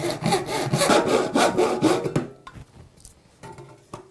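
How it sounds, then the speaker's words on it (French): A hand saw rasps through PVC drain pipe in quick, rhythmic back-and-forth strokes for about two seconds, then stops, leaving a few faint clicks and taps. "Donc je coupe tout simplement mon PVC en essayant d'être le plus droit possible."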